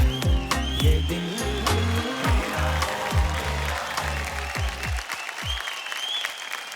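A TV folk singing show audience gives loud, sustained applause, dense clapping over a low musical bed that fades toward the end.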